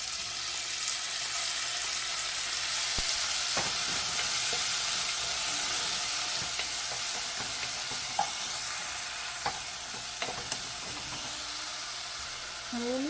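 Tomatoes and green chilies sizzle steadily in a frying pan for a Kerala rasam, a continuous close hiss broken by occasional stirring scrapes and small clicks, with no talking.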